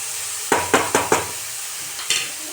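Grated carrots cooking in ghee in a pan for carrot halwa, with a few sharp stirring and scraping knocks in quick succession over a soft steady sizzle, then a quieter pause and one more scrape.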